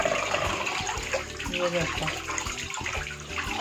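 Sweet potatoes rubbed and scrubbed by hand in a small amount of water, with continuous sloshing and splashing close up while someone talks over it.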